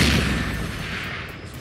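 A large ship railgun fires in the Space Engineers video game: a single loud, broadband blast that opens at full force, then fades into a rumbling tail over about a second and a half.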